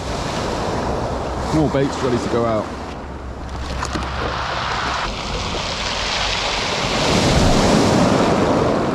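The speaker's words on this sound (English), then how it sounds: "Now you can probably hear the waves. The waves are insane." Waves roll and crash with a constant rush of surf and wind on a fishing beach; someone speaks briefly over the noise.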